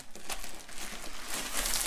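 Crinkling of a branded plastic bag holding the contents of a diamond art kit, a continuous close rustle that swells and fades, with no talking.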